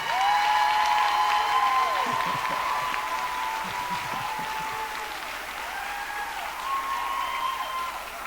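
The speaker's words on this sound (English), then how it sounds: "Let's give them a round of applause." At a 5th grade graduation, the audience gives a round of applause that starts strong and eases slightly, with scattered claps and a bright tone looping through the hall.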